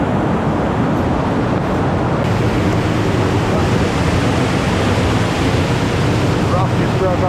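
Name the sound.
waterfall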